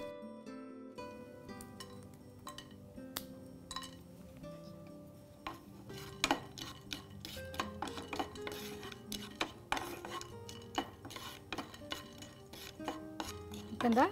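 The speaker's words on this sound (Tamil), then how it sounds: "பட்டையும் நல்லா லேசாக வறுத்துக்கோங்க." Cinnamon bark, cardamom, cloves and star anise are dry roasted in a pan, a spoon scraping and clinking against the metal in a steady stirring rhythm with soft rattling of the spices.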